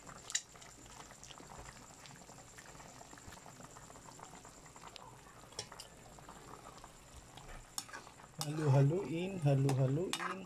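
Chicken and pork are stirred in a boiling pot of pochero, with continuous bubbling and occasional utensil clinks against the pot, and a voice speaking briefly near the end.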